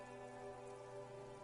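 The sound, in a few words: rain in video game Disco Elysium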